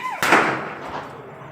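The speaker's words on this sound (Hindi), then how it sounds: "ये हम छत पे कुछ पटाखे फोड़ रहे हैं" A single firecracker bursts on a rooftop during Diwali, a sharp loud bang that decays over about a second, with a brief voice just before it.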